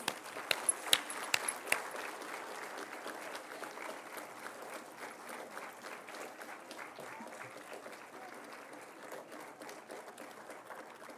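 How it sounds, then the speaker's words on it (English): An audience at a school performance event applauds the performers, steady clapping that starts with a few sharp close claps, then fades gently to a softer, sustained applause. "A big round of applause for all the performers"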